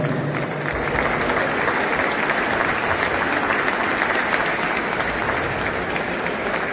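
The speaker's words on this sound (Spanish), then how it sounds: "nuevamente un aplauso fuerte de los presentes para ellos" Crowd applause at a municipal military service draw in Tejupilco, dense, loud and sustained clapping from the attendees that fills the whole stretch without pause.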